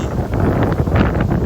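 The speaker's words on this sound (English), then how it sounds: "It's windy." Wind buffets the microphone outdoors near the Wabash Cannonball Bridge, a continuous low rumble with gusty fluctuations.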